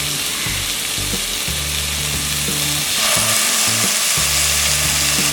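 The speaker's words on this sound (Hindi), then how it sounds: "हम डालेंगे ये 1 टीस्पून विनेगर" Maggi masala noodles sizzle steadily in a pan as a teaspoon of vinegar goes in, with a continuous frying hiss and a brief surge in the sizzle partway through; no one speaks.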